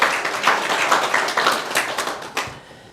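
A church congregation bursts into applause, a dense burst of many hands clapping at once that swells and then thins out over a few seconds, heard in a large room.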